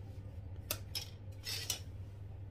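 Vegetable chips being tossed with chili in a bowl, giving a few short clinks and light rustling scrapes over a low steady hum, with no talking.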